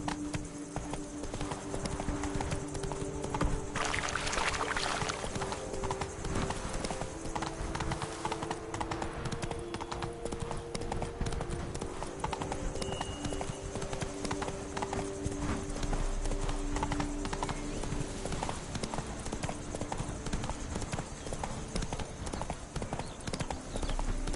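Horse hooves galloping in the video game The Witcher 3, a steady, continuous clip-clop rhythm running throughout at moderate level over game ambience.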